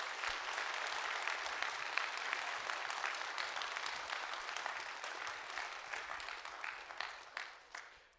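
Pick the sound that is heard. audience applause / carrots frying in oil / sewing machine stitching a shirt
audience applause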